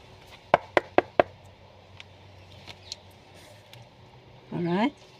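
Four sharp knocks on a hardcover book in quick even succession, crisp and close, followed after a pause by a short burst of speech.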